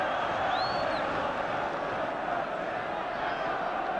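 Steady, dense roar of a large football crowd at a 1977–78 Sunderland v Spurs match, broad and distant, holding at an even level throughout with little rise or fall.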